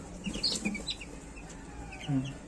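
Young chicks in a DIY incubator brooder give faint, scattered high peeps and a couple of low clucking notes, quiet and close, with no one speaking.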